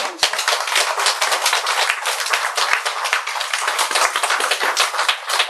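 Listeners at a Buddhist sutra lecture clap together in a brisk, close, continuous patter of sharp hand claps that holds evenly throughout with no voices.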